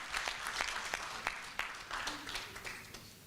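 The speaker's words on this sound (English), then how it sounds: "Can we give them a good round of applause?" An audience at a boxing convention applauds, a short burst of scattered hand clapping from a fairly small crowd that swells and then tapers off, with no talk over it.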